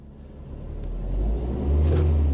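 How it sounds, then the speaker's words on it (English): A Toyota Altezza engine fitted with individual throttle bodies revs up from idle, a deep rumble that builds steadily into a louder, sustained roar, close and alone. "Now I'm going to rev the engine"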